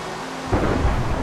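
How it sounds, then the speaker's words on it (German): A thunderstorm in the Minecraft video game: a deep rumbling thunder roll swells abruptly over steady rain noise, loud and enveloping, with no talking. "Alles Gewitter"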